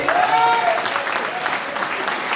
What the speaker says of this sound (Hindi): एक बार जोरदार वाली तालियां।